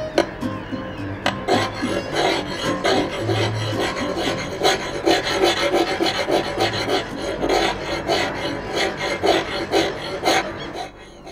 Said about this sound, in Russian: Якорь пилить.